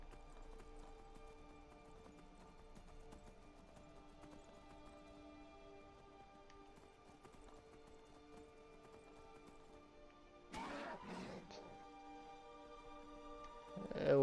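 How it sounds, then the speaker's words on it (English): A horse gallops in Skyrim with a steady run of rhythmic hoofbeats at moderate volume, and a louder burst of horse noise near the end. "It will make sounds if you jump off, if you jump too far like any other horse"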